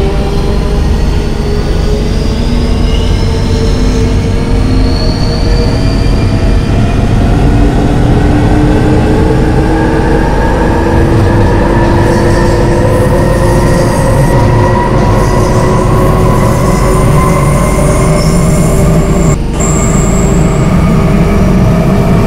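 A London Underground train running between stations, very loud and close: a constant rumble and rattle of wheels on track with whining motor tones rising and falling and occasional squeals, no voices.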